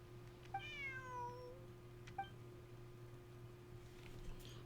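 A cat in a video game gives one long, drawn-out meow, then a short chirp-like mew a moment later, both clear over a steady low electronic hum.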